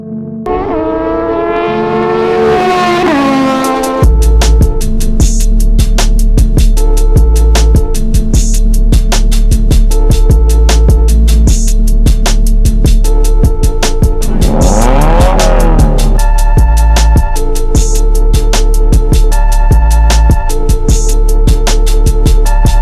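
Cars drifting at a drifting and drag racing event in India: a loud engine revs and climbs, then sustained, roaring engine drone with bursts of tire squeal continues throughout, over a steady rhythmic thumping backdrop.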